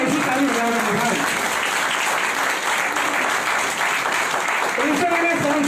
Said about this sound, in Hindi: एक बार ताली बजा दी, ऐसी ताली बजा रहा है